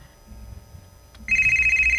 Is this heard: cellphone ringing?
yes